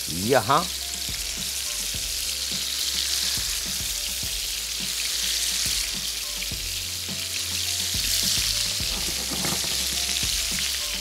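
Sticks frying in hot oil in a home kitchen, a steady bright sizzle filling the scene with small crackles and pops, plus a brief utensil clatter at the start and a short spoken word.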